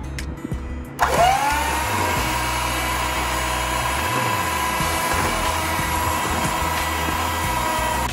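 Electric hand mixer beating sugar and butter together in a bowl for a coconut macaroon cake, starting after a second of quiet and running as a loud, steady motor whine with no talking.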